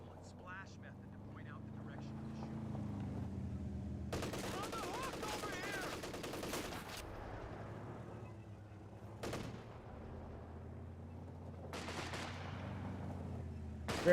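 Gunfire and explosions from the Company of Heroes 2 strategy game: soft distant shots early, then a dense burst of rapid fire, a sharp single blast and another short volley, with engine rumble underneath and a voice commenting.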